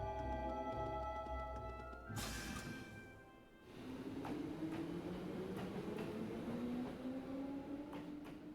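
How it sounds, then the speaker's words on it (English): A train in the video game Trails of Cold Steel pulls in, a loud rumbling roll with a sharp hiss burst midway, then rising wheel and brake tones as it slows, with no voices. "The train has arrived."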